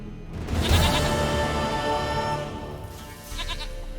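A goat in The Witcher 3 video game gives a long, wavering bleat close up that swells and sustains, then a shorter second cry follows after a brief dip.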